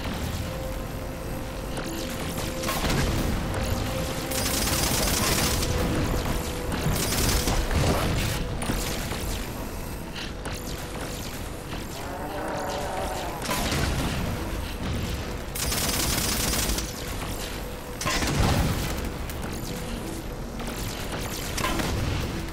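Needler fire in Halo 4 rattling out in a dense, loud barrage amid booming explosions and mechanical game noise, with no clear break in the din.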